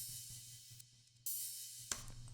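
A crash cymbal in a jazzy drum and bass beat, with a few washy, sustained crashes that swell and fade. It plays alone and quiet over a faint low hum.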